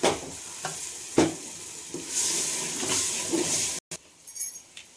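Tomatoes sautéing in a pan for chicken biryani, a close, steady sizzle with intermittent stirring scrapes and a brief dropout near the end, no speech.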